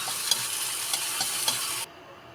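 Garlic and ginger being stirred in a hot pan, a dense close sizzle with a few soft scraping strokes, cutting off abruptly near the end.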